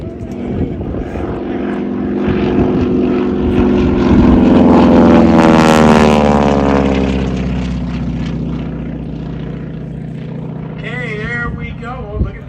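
A WWII-era propeller aircraft at a wartime airshow weekend drones past, its engine note swelling to a loud peak and sliding down in pitch as it recedes, with a voice speaking over it.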